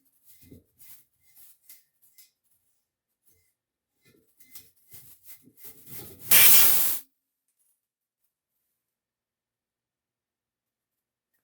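Propane escapes from an old tank valve during a refill of a 1 lb cylinder from a 20 lb tank, a loud, close burst of hissing lasting under a second that follows soft handling clicks and rustles.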